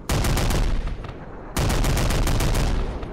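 Sustained automatic gunfire in the military-simulation video game Unturned, loud and dense, with rapid bursts that briefly ease around the middle before a second heavy volley resumes; no speech.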